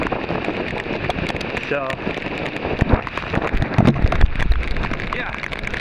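Rain falls steadily outdoors near Atkins, a dense patter of drops on surfaces close by, heard under a voice as he talks.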